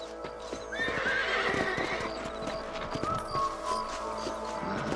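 Horse hooves clip-clop at a steady trot, with a horse whinnying briefly, set against a continuous ambient game soundscape.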